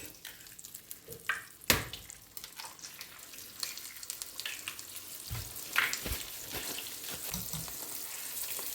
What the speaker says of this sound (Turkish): Şimdi tavada kalan yağda yumurtalarımızı kırıyoruz.